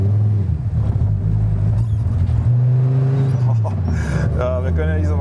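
A car engine with automatic rev-matching revs continuously and loudly up close, its pitch rising and falling through the shifts, while a person talks over it.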